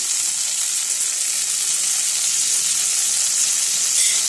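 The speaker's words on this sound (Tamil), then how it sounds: "இந்த ஸ்டேஜில் இன்னும் கொஞ்சம் வந்து எண்ணெய் ஆட் பண்ணி இன்னும் கொஞ்சம் நல்லா வதங்கிட்டுக்கோங்க" Vegetables for idli kurma sauté in oil in a pan, giving a loud, steady, continuous sizzle and hiss throughout with no breaks.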